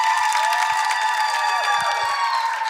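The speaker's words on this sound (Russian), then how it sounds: "под ваши бурные аплодисменты" A television show audience applauds and cheers after a stage performance, a loud, sustained wash of clapping with high shrieks and whistles riding on top throughout.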